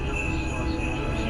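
A passenger train bound for Los Angeles Union Station rolls steadily along, a continuous low rumble and rail hum heard from onboard, with no talk over it.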